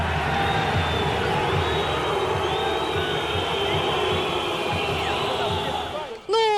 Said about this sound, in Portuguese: Basta ouvir o som de São Januário depois do jogo